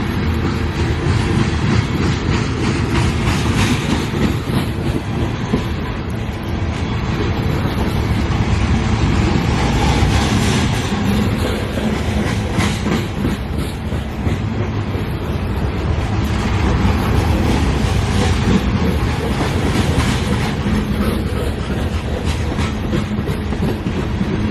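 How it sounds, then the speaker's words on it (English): A long freight train hauled by a locomotive rolls steadily past nearby, with a continuous rumbling roar and rhythmic clatter of wheels on rails, plus some wind noise. "I think I hear the DPU, maybe, if there's one on this train."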